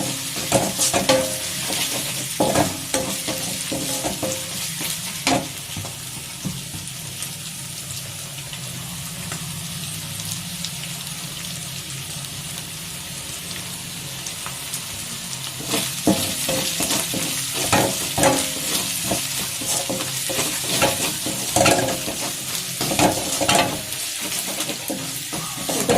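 Tomatoes sizzle and fry in a pan with cinnamon for a tomato egg curry, stirred now and then with scraping strokes, a steady close crackle throughout with no talking.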